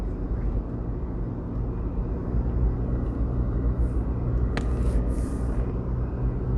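A car cruising on Jamaica's North South Highway gives a steady, close road and engine rumble throughout, with a brief brighter whoosh of passing noise near the end.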